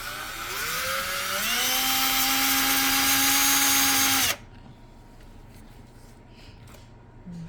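A power drill bores pilot holes into a desk, whining loudly and steadily while its pitch climbs and then holds. It cuts off abruptly after about four seconds, leaving quiet room noise with faint movement behind it.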